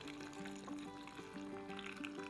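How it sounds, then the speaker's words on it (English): Hot water pours steadily into glass canning jars while pressure canning potatoes, a soft continuous liquid fill with shifting tone as each jar takes on water, heard up close and alone. "We have our hot water here, and we're gonna go ahead and just fill up each jar"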